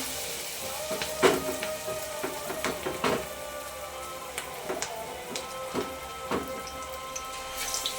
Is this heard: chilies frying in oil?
yes